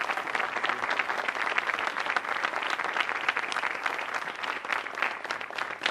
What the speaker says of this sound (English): How about a round of applause for this young gentleman?